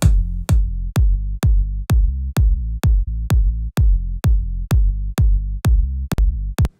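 A sidechained kick drum and sub bass pump in a steady electronic pattern, about two punchy kicks per second. Each hit ducks a deep sustained sub bass that swells back between beats, loud and alone throughout.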